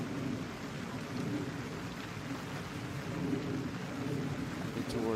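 Steady rain from a passing storm system hisses continuously over a golf course, with low rumbling thunder underneath and no talk.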